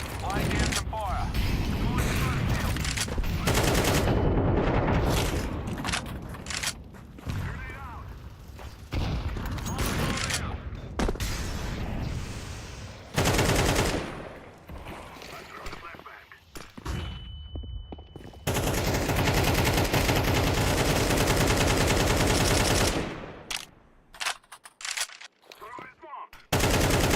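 Bursts of gunfire in a competitive Counter-Strike 2 match, dense and loud for long stretches with brief pauses, mixed with other game effects and voices talking over the action.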